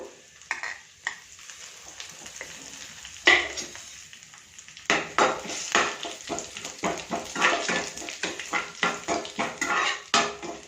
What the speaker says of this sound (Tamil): மிளகு, முந்திரி பருப்பு, சோம்பெல்லாம் பொரியட்டும்.